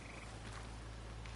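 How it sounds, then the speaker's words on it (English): Frogs and toads croak their mating calls outdoors in Horizon Forbidden West, a dense steady chorus of low croaks filling the clip at moderate distance without pause. "Yeah, of course you can hear the frogs and toads mating calls outside"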